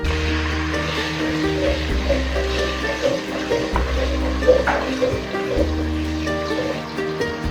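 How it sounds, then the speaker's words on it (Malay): Blended dried chili fries in oil in a pan, making a steady, moderate sizzle with bubbling and occasional stirring clatter, heard close up with no talking. "Tumis cili ini sehingga pecah minyak."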